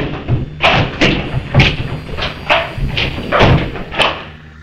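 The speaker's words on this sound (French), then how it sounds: "Adlai, peut-être par frustration, frappe le mur" In an interrogation room, a fist hits a wall over and over, making a run of heavy thuds at an irregular rhythm, loud and close, with scuffing in between.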